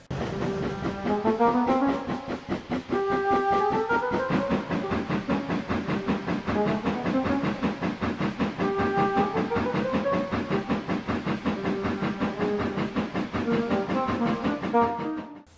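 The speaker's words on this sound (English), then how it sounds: "judging from the sound, there must have been close to 30 trucks on that train" A steam train with roughly thirty wagons rumbles past in a children's animated railway series, its whistle sounding loudly in repeated sustained blasts over the continuous clatter of wheels throughout.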